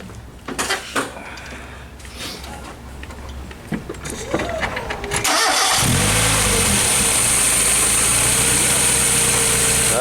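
A motor's engine, just repaired after an oil leak, cranks with clunks and rattles for several seconds, then catches and settles into a steady, loud, close idle that runs to the end.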